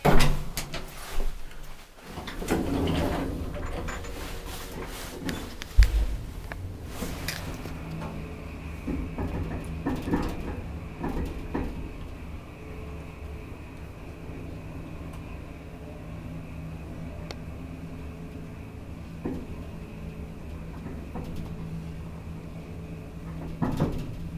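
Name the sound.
elevator doors opening and closing, modernized Kone traction elevator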